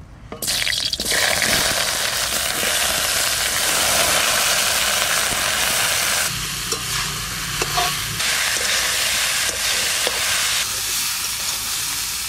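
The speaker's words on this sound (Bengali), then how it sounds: "এবার এঁচড়টা একটু ভাজা করে রাখবো।" Young jackfruit fries loudly in a pan for a dense, steady sizzle, with intermittent stirring scrapes and a brief dip partway through before the sizzle returns at full strength.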